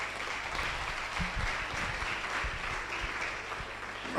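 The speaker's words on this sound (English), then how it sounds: "Distinguished ladies and gentlemen, please a round of applause for Professor Obama." An audience at an entrepreneurship and innovation lecture applauds, a moderate, sustained clatter of clapping hands that holds steady throughout.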